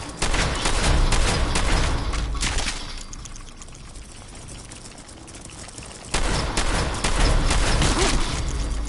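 Shotgun fire from the Fallout 4 video game, a loud dense burst of blasts and clatter for about three seconds, a quieter stretch, then another heavy run of gunfire near the end.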